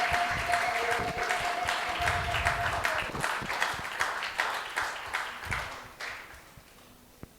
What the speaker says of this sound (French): qu'elle avance sous les acclamations de l'Église